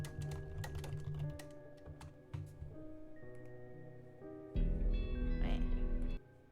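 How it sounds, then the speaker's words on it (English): Rapid keystrokes on a computer keyboard while search terms are entered into a database in a game, clattering in short bursts over steady background music, with no talking. "Explore the database by typing search terms"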